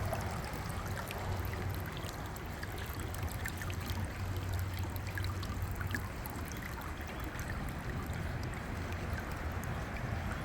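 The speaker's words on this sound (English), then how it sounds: "drain the water out of the ballast tank. You should hear it go glug, glug," Water drains steadily from the ballast tank of a small RC submarine just lifted out of the water, a continuous close rushing, trickling wash with no distinct glugs and no voices.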